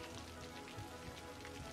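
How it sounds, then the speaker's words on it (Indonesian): Rain falls in the city-building game Cities Skylines, a soft, dense, even patter of drops on surfaces that holds steady and faint. "Untung pas lagi hujan."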